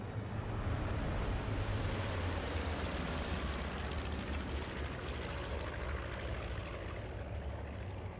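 Engines of WWII American bombers drone in a dense, loud, steady roar off the Dutch coast, a broad rumbling wash that fills the whole stretch without pause or voices.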